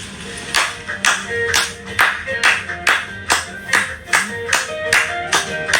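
An audience claps together in a steady rhythm, roughly a dozen sharp, loud claps over six seconds, with a sustained tonal background underneath.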